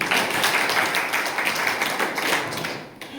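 Audience applause at a school or college gathering in India, honouring a bank manager invited on stage: a dense, steady burst of many hands clapping close by, thinning briefly near the end.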